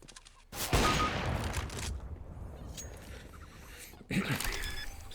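Gunfire in the video game Overwatch bursts in sharply, with a loud volley early on, a sustained noisy stretch, and a second abrupt burst near the end.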